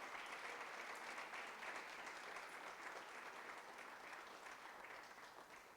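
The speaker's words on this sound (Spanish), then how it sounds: "Denle una ofrenda de palmas al Señor" A church congregation claps together during a service, a continuous, even round of applause that holds steady and fades a little near the end.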